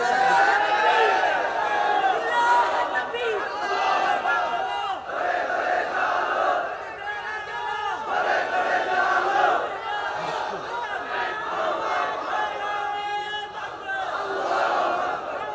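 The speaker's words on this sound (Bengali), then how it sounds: "এখন তাকবীর দেওয়া দরকার জোরে তাকবীর দেন" A large crowd at a Bengali religious sermon gathering roars the takbir chant, loud massed voices rising and falling in repeated waves across the whole stretch.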